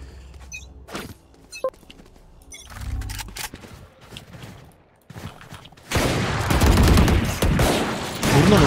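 Gunfire from the video game Valorant: a few scattered sharp shots early on, then a dense, loud burst of rapid fire in the final seconds, with clicks and game sounds in between.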